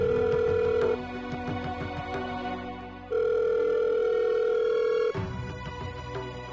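A telephone rings in a home, loud electronic trills in two long bursts separated by a pause, with a faint background hum and no talking.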